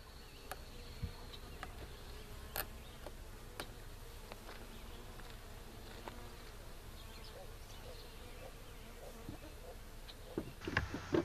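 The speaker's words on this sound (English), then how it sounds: "There's a mass of bees around the queen cage, and those bees are tending the queen through its wire screen." Package bees swarming around a queen cage make a steady, moderate buzz, with occasional clicks and handling knocks close by.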